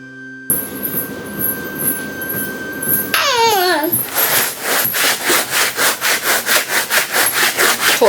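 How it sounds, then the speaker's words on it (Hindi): Brush scrubbing during household cleaning, a steady run of rhythmic rubbing strokes that grows louder and faster in the second half, following a few seconds of quieter background noise. "थोड़ा ब्रश मार देती हूँ इसको"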